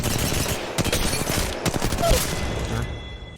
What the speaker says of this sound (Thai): อยากยิงอยากยิงให้มันนิ่งก็ยิงเป็นชุดเอาครับผมมันจะยิงนิ่งนะ